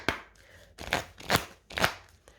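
Oracle cards being shuffled by hand: four or five soft, papery riffling bursts in a loose rhythm, close and fairly quiet, with no talking.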